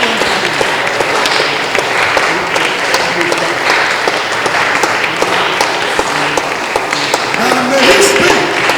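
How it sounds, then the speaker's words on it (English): A congregation claps hands together in a sustained, dense wash of applause at a church prayer service, with voices talking and calling out over the steady clapping throughout. "Let's clap our hands and pray"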